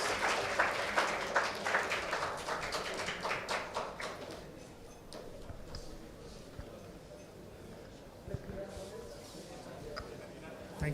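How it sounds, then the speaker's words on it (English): Applause for prize winners and participants of a chemistry Olympiad at a memorial lecture event: dense, brisk clapping from an audience fills the first few seconds, then thins out into scattered claps under room murmur and talk. "A big round of applause for them."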